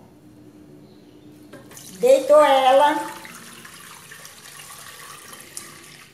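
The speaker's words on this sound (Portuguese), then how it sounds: "agora eu vou colocar a água." Water runs from a tap into a dark cooking pot for doce de leite, a short burst of splashing and filling about a second long, with someone speaking Portuguese around it.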